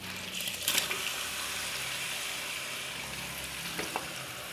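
Green peppers frying in a pan for menemen, a steady, even sizzle of hot oil running throughout with a few small clinks and stirring sounds, fairly quiet and close.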